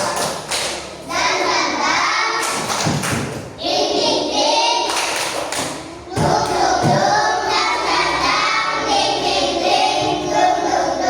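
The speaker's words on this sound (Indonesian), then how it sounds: "Namun sebelumnya tepuk semangat." An elementary school class at SDN Pakong 1 doing a 'tepuk semangat' clapping cheer: loud, close, rhythmic group claps and thumps mixed with children's chanting voices, broken by two short pauses.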